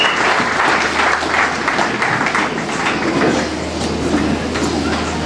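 A church congregation applauds to acclaim the word of the Lord at a solemn Grand Pardon service, a loud and continuous wash of clapping throughout.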